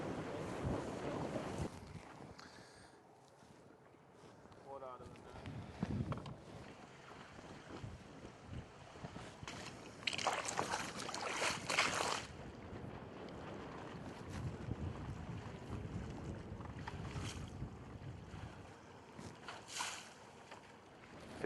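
Wind buffeting a microphone on a fishing boat on a lake, gusting in waves with rushing noise and low rumble, louder surges at intervals, water and boat sounds underneath.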